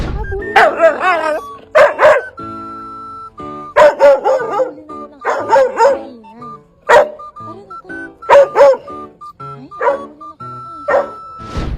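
A dog barks in loud, close bursts of yips and bow-wows, broken by whining and whimpering tones, with a melodic musical track playing underneath throughout.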